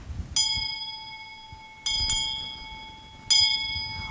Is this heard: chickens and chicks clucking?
no